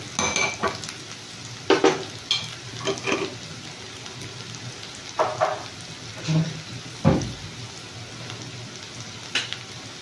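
A spoon stirs turmeric into curry frying in a pan for puri, giving a soft continuous sizzle broken by scraping and clinking strokes at irregular intervals.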